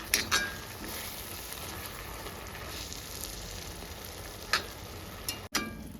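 An onion and chilli mixture fries in a pan on low heat with a steady close sizzle, broken by a few sharp clinks and scrapes as it is stirred.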